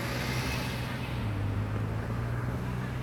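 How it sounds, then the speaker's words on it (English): Night-time street traffic beside a canal in Kaohsiung, with scooters passing: a steady, close engine rumble and road hiss with a low droning hum, no single vehicle standing out. "there's too much traffic noise. Like you hear the scooters going by and stuff."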